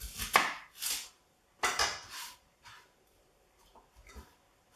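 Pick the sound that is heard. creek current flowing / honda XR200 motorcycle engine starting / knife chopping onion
knife chopping onion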